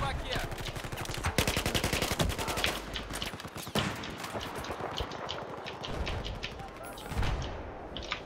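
Rapid automatic gunfire bursts in a Battlefield 4 team deathmatch, dense rattling volleys early on, then scattered shots and combat noise with someone talking over parts of it.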